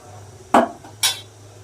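A metal plate set down into a steamer pan while making a Gujarati milk-based steamed dish, giving two sharp metallic clanks about half a second apart, close and fairly loud over a quiet background.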